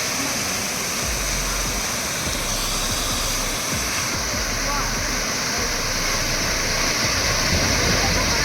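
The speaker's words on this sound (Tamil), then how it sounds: "அந்த தண்ணி சத்தத்தோடு பார்த்தா தான் உங்களுக்கு வந்து ரொம்ப நல்லாயிருக்கும்" Waterfall in Munnar roaring steadily, a dense continuous rush of falling water close by and loud throughout, with talk mixed in.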